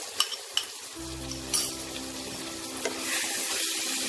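Coriander and green chili paste is added to chicken in a pan: a few light clinks, then a loud burst of sizzling and stirring that fades to a softer, steady fry. Nobody speaks.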